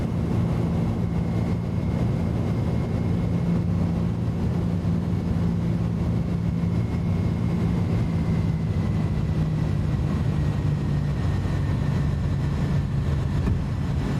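An Airbus A310 in a flight simulator climbs after takeoff, with a loud, steady engine roar and a faint whine that holds throughout without any breaks.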